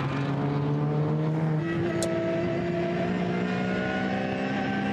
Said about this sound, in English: So, the Menzel car now thundering its way down the hill towards Ad van Bogen